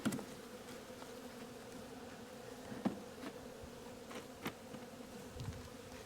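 Honeybees swarm around an opened hive in a soft, steady buzzing drone, close and constant, with a few brief knocks and handling noises and no talking.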